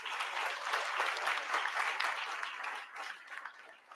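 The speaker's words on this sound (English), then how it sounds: "let's give a big round of applause to our Miramar City staff" An audience gives steady applause to Miramar city staff at a November incinerator logistics meeting, a dense wash of clapping that tapers off slightly toward the end.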